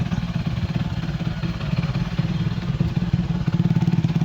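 Honda RC250 motorcycle engine on its first start with the choke raised, a close, loud, uneven idling rumble with a rapid rhythmic pulse and mechanical clatter, running steadily throughout without talk.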